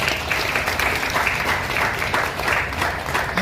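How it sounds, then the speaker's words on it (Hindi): An audience at a government event in a Patna hall breaks into steady, sustained applause, dense clapping that stays loud and even from start to finish. "उनके लिए ताली हो जाए एक बार।"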